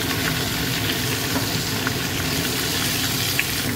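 Onions frying in pork fat in a pan, cooked without added oil, with a few whole spices. A steady, close sizzle hisses throughout with faint crackles and no talk.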